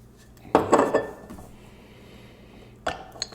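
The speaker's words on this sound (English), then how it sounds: "It's a glass cork." A glass stopper is pulled from a bottle of Bruichladdich 18 Year Old whisky, first a bright burst of glassy clinking and scraping, then a short clink near the end, against a quiet room.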